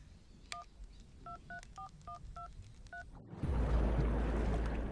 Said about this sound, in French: Ça sonne! Ça marche! Ça sonne!